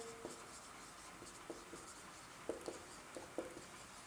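A pen writes by hand on paper, with faint, soft scratches and a few light taps spread across a quiet, hissy background.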